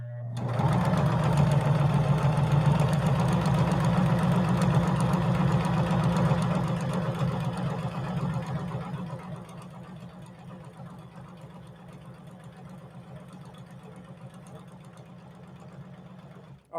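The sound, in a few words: Juki HZL-353ZR-C sewing machine sewing a stitch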